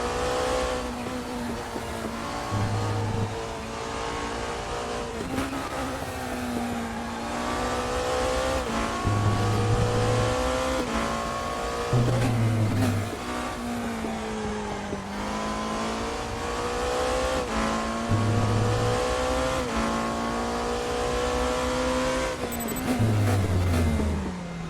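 A race car in the RaceRoom racing game roars continuously through a lap, its engine pitch climbing and dropping with gear changes, with bursts of tire squeal and low rumble at intervals, loud and close throughout.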